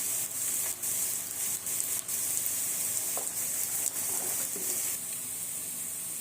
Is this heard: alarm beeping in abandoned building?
no